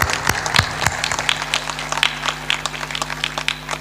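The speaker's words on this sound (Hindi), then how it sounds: "ताली बजाते।" An audience at a spiritual discourse claps in scattered, uneven applause. It is moderately loud against a steady background hum.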